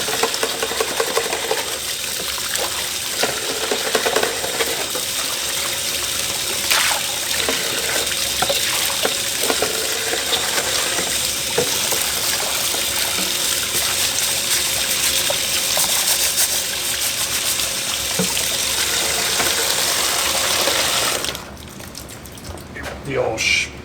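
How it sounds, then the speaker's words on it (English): Water rinses over the battery area of a '99 Intrepid in a steady, hissing spray that runs close and fairly loud for about twenty seconds, then cuts off abruptly near the end. "Kind of rinse everything off here."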